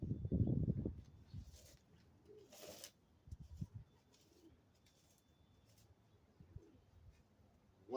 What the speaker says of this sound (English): doves and pigeons over there.